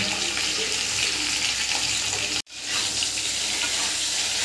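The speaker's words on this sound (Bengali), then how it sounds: "তেলে বেগুন দিয়ে দেবো। বেগুনটা নুন দিয়ে ভেজে নেব।" Salted eggplant frying in hot oil gives a steady, loud broadband sizzle, briefly cut by a sharp gap midway before the hiss resumes.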